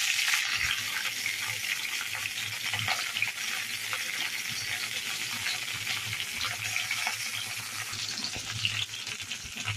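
Cluster beans (guar) dropped into a pan of browned garlic, frying with a continuous loud sizzle and occasional stirring.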